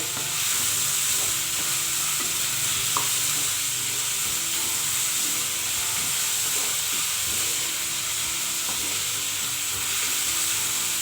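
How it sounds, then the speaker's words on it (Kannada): Chopped onions sizzle and fry steadily in a pan on the way to golden brown, a loud, unbroken hiss with occasional faint stirring clicks. "ಕಟ್ ಮಾಡಿರೋ ಈರುಳ್ಳಿ ಎಲ್ಲ ಹಾಕ್ಕೊಂಬಿಡೋಣ. ಸ್ವಲ್ಪ ಚೆನ್ನಾಗಿ ಫ್ರೈ ಮಾಡ್ಕೊಳ್ಳಿ, ಗೋಲ್ಡನ್ ಬ್ರೌನ್ ಬರೋವರೆಗೂ."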